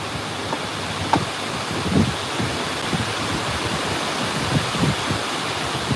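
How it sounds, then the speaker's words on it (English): Strong wind roars steadily, broad and noisy, with buffeting gusts thumping against the microphone now and then. "Why is it so fucking windy, man?"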